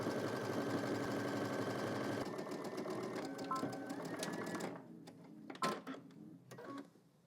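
A sewing machine stitches down a shorts seam in a steady rapid whir for several seconds, then slows and stops, followed by light handling clicks and fabric rustle nearby.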